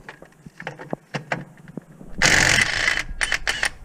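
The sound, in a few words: ratchet removing bolts on Duramax AC bracket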